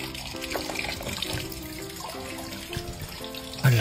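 A weak stream of running water trickles and splashes at a low, steady level, with a brief louder splash near the end.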